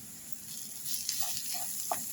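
Onion sautéed in a pan with Kashmiri red chilli powder, turmeric and salt gives a soft, steady sizzle with a few light stirring scrapes, quiet and close with no voices.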